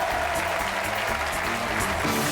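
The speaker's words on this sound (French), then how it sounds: "qu'on applaudit fort, fort." A TV game show studio audience applauds steadily, a dense wash of clapping that holds at even loudness from start to finish with no voices above it.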